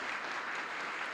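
An audience claps steadily to welcome Gi Santos onstage at an education event on unplugged artificial intelligence, a soft, even wash of applause heard from a distance with no voices over it.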